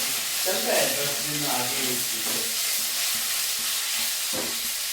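Onion seasoning crackles and sizzles steadily in a hot pan, a dense frying hiss with a voice talking over it.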